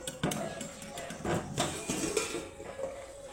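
A lid lifted off a pot of mourola fish bati charchori, giving a few close metallic clinks and knocks of cookware against a faint background hiss.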